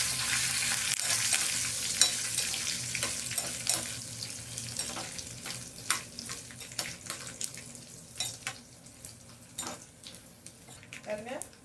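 Dried red chillies, broken into pieces, sizzle in hot oil for Karnataka-style bisibela bath. A steady, faint crackle runs under irregular spoon scrapes and stirring knocks.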